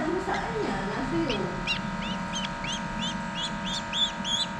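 Black-naped oriole parent birds calling, a run of short, repeated bright chirping calls that grows steadier and clearer toward the end, heard over a low background hum with some faint lower voices early on.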